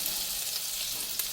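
Chicken frying in hot butter in a pan, a steady close sizzle that holds level throughout with a brief crackle pop near the end.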